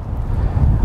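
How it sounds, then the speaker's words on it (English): Wind blowing across the open roof of a parking garage, a steady low buffeting rumble hitting the microphone, loud and close, with no other sounds. "But it's a little windy out here"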